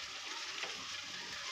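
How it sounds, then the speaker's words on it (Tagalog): Food fries in a pan at home with a continuous, dense sizzle and crackle, close and steady throughout, with no speech. "Nagluluto po siya, no?"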